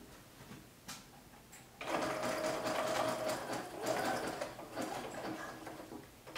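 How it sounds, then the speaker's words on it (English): A sewing machine stitches a zigzag along fabric for pom-pom trimmed shorts, starting after a light click with a rapid, rattling mechanical run for a few seconds, close by and without talking. "Set your machine for a zigzag stitch."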